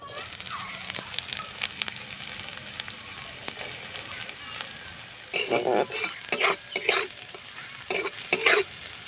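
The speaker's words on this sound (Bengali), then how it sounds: "তেলটা গরম হয়ে গেছে আমি এবার গাজর কুচিটা প্রথমে দিয়ে দেব" Chopped carrots hit hot oil in a pan, first a low steady sizzle, then louder bursts of crackling and stirring in the second half. Voices talk over parts of it.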